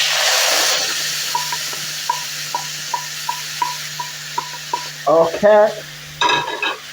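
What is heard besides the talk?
stirring peanut soup with sweet potatoes in a pot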